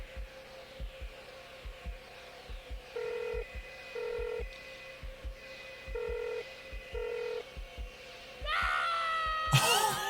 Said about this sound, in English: He heard the phone ringing behind him